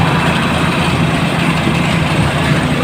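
A loaded motorcycle engine runs steadily and loudly while carrying three sacks of cargo, with the load unbalanced and the front tipping up. The tone is a continuous low rumble, close and constant, with no talk.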